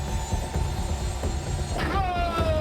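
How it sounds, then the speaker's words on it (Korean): A helicopter lifts off from the deck of a Korean tuna purse-seine fishing boat on the Pacific, a loud, continuous rotor and engine roar close by, with a whining tone sliding downward near the end. "헬기가 이륙하고"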